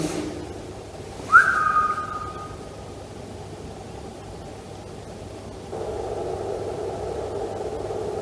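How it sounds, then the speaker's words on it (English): A single whistle-like tone with a slight upward bend, a little over a second long, rises clearly out of steady static and hiss during a ghost hunt in the abandoned Newsham Park asylum; no voices are heard. "Who's whistling?"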